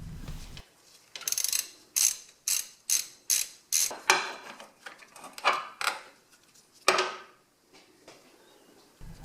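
A ratchet clicks steadily in short repeated bursts, undoing a 12mm nut on the starter of a Toyota Sienna 3.5L engine, with brief pauses between strokes, close and fairly loud, no talking.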